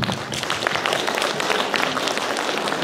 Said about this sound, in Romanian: Stimați bărbați, haideți să aplaudăm încă o dată,